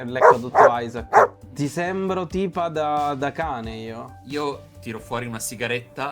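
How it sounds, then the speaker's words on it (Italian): A well-kept Labrador barks a few times near the start of a scene from a drama series, then keeps sounding faintly while people talk over it. "E si sente un abbaiare, un labrador tenuto in ottime condizioni."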